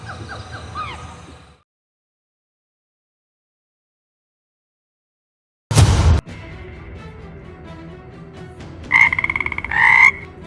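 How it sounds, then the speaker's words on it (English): A small rainforest frog croaks in a short burst, then there is a long silence, a loud thump and more croaking, ending with a bright pair of high calls, all close and clear. "See that tiny dot frog hopping on the leaves."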